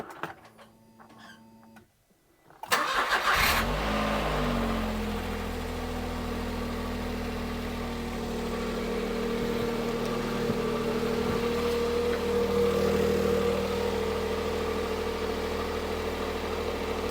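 Car engine fitted with a spare replacement starter motor cranks and catches after a short pause, then settles into a steady, close idle that runs on evenly with a faint vibration.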